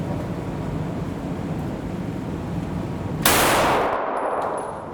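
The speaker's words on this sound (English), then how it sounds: "We'll shoot without a mag in" A single loud shot from a SIG Sauer P320 M18 pistol fired with no magazine inserted, a sharp crack after steady outdoor background noise, with a long ringing decay behind it.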